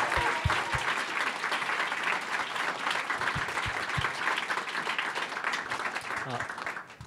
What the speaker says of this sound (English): Can I ask us to start with a round of applause for our first panel